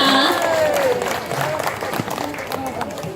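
Audience at a school folk-tale performance in Wajo applauds and cheers, a dense crowd clatter with voices calling over it, fading slightly toward the end.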